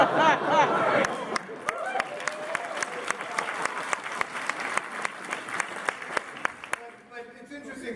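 Audience applause at a Marvel prop panel at San Diego Comic-Con 2017, a dense crowd clapping steadily for several seconds before thinning out, with a few sharp individual claps standing out and faint voices underneath.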